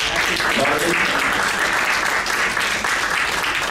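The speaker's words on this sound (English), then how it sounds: "Let's have a hand clap for her." An audience at a health presentation claps together to honour a participant. The applause is loud and continuous, a thick wash of clapping with voices mixed in.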